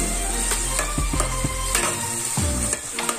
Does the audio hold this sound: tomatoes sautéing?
yes